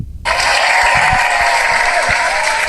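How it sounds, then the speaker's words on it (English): A high school audience breaks into sudden, loud, steady applause that starts abruptly and holds as a dense wash of clapping through to the end. "Let's give her a round of applause."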